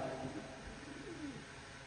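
Pigeon held in the hand giving low, faint cooing murmurs, close and soft over a steady background hiss.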